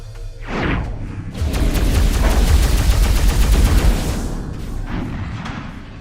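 A weapon firing in the space shooter video game Overload, played in VR: a sharp boom followed by a loud, sustained rapid-fire barrage for a few seconds that tapers off, then a few softer shots near the end.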